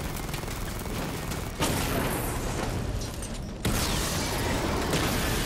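Dense gunfire rattles continuously in Batman: Arkham Knight on PS5, a loud sustained barrage with two sudden jumps in intensity and no voices over it.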